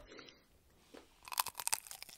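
Someone bites into a burrito made with a thick fried corn tortilla, a cluster of sharp, close crunches bursting after a quiet start, with chewing crackle and no talking.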